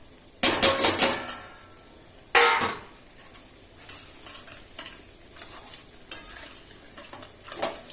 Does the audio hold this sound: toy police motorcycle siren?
no